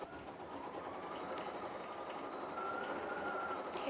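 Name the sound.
Bernina 880 embroidery machine stitching at full speed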